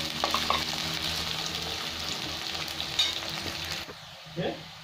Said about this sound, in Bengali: এবার আমি পেঁয়াজের বেরেস্তা করে নিচ্ছি।